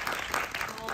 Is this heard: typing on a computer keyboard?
no